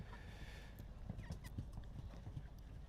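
Horse hooves at a show jumping competition thud softly in an uneven rhythm at a distance, faint beneath steady arena background noise.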